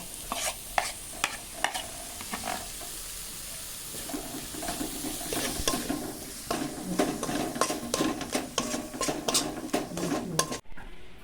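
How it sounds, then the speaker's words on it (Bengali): Palm fruit fritters frying in oil in a kitchen, a continuous sizzle with frequent clinks and scrapes of a utensil against the pan, close and busy with no talking. "তালের বড়া ভেজে নিচ্ছি"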